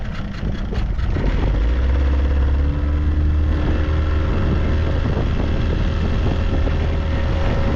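Main engine of a small boat in Scottish Highland waters idling steadily, a low continuous rumble with faint rattling texture and some wind noise, close and fairly loud, no talking.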